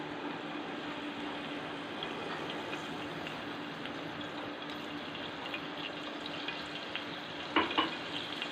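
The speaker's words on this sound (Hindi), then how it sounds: "जो तिड़ तिड़ यानी कि आवाज़ आती है, हमने इस तरह से इसको गर्म करना है" Cooking oil heats in a pan on the stove, giving a steady fine crackle and sizzle. It runs throughout at an even level, with a brief clatter near the end.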